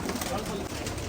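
A pigeon coos in a short, close burst outdoors among a keeper's birds, with speech over it.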